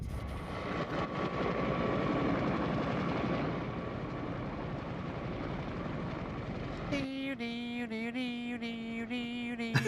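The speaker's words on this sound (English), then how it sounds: "You think of the choppers coming in? Choppers." Helicopters coming in, a loud, sustained rumbling engine roar that runs for about seven seconds before giving way to a tonal, music-like sound.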